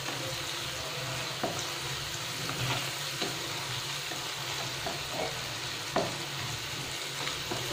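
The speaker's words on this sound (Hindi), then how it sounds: "और इसको अच्छे से भून लेंगे हम, मिक्स कर लेंगे" Gram flour (besan) fries and sizzles in a pan on medium heat, with a steady crackle and occasional scraping knocks of a spoon stirring, close and moderately loud, no voices.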